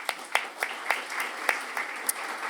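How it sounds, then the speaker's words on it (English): An audience at an evening talk at the Wheeler Centre claps together in a steady, soft wash of applause with a few sharper individual claps standing out, heard from a distance with no speech. "So give yourselves a round of applause."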